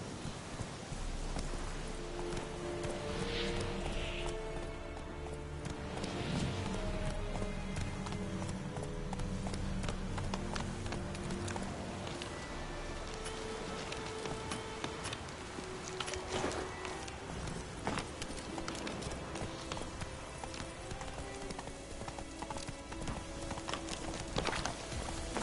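Rhythmic hoofbeats of a horse galloping in The Witcher 3: Wild Hunt, a steady clip-clop run that continues throughout over a hiss of rain and game ambience.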